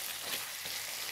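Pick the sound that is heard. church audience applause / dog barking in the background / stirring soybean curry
stirring soybean curry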